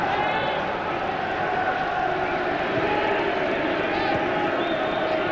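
A large football stadium crowd at a 1997 England versus South Africa friendly gives off a steady, massed roar of voices and murmuring reaction that holds evenly throughout.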